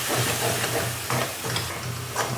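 Chili powder stirred into a frying fish curry masala for rock fish kuzhambu, a steady sizzle with scraping stir strokes close by, no voices.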